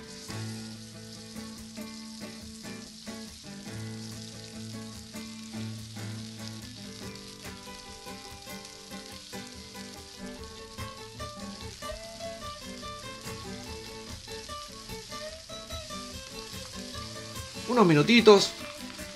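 Osobuco searing in a drizzle of oil on a very hot disco, a steady sizzle running throughout beneath a voice and music, swelling louder near the end.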